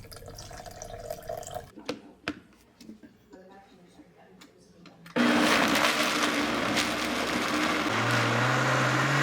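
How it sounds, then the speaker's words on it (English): A blender pulping paper and water starts up and runs loudly and steadily after a few seconds of clattering and knocking, its motor whirring through a thick, watery mix. "keep on blending till you get rid of all your paper"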